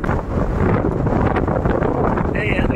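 Strong wind buffets the microphone near a cricket ground, a loud continuous roar and rumble with gusting swells throughout.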